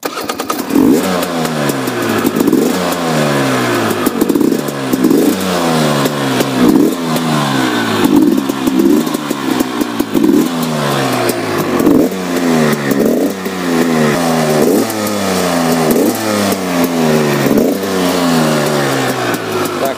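A ZM Tracer 300 two-stroke motorcycle revs hard and close at a test ground, its engine rising and falling in a steady series of loud, raspy throttle blips, roughly one every second or two.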